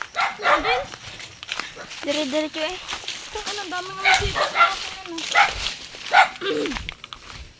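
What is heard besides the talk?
dog barking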